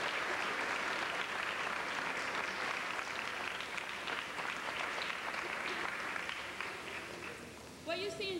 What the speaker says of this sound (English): Can you please give those artists and the teachers a round of applause?